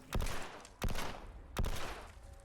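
A new unique weapon in Fallout 76 fires three slow, heavy shots, evenly spaced about three quarters of a second apart, each a loud close blast with a short decaying tail.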